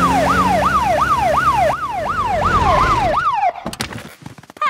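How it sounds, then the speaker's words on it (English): A cartoon fire engine siren wails in a steady rising-and-falling cycle, loud and close, repeating about seven times before cutting off into engine rumble and clatter. "Can we use the siren again?"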